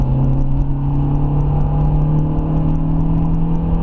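Renault Scenic RX4 running on LPG accelerates hard in second gear, a steady loud engine drone with a strong low hum rising slightly in pitch, continuous and close with no talking.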